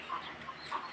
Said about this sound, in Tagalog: Ayan guys, ang kanilang manukan.